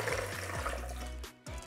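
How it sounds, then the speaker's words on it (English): Two cups of water are poured into a blender holding chopped cucumber, a steady close gurgling stream with a brief break near the end, no talking. "Now add 2 cups of water"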